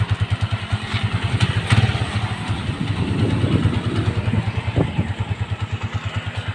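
A stock Honda TMX 155 motorcycle with its original exhaust idles close by, its single-cylinder engine thumping in a steady, even rhythm that swells briefly in the middle before settling back to a regular idle.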